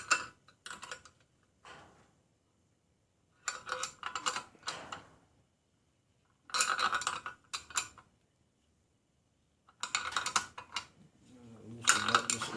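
A hand ratchet tool clicks in several short bursts with pauses while working on a valve spring of an LS 5.3 engine, close and loud in a quiet garage.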